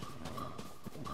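Horse hooves clip-clop in Zelda: Tears of the Kingdom, a quiet, brief run of evenly spaced trotting steps under a faint tonal background.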